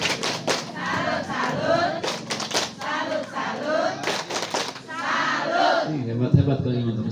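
A group of women at a village community outreach session in Pagelaran perform a clapping salute cheer, chanting together in rhythm with a run of sharp hand claps, ending on a final thump.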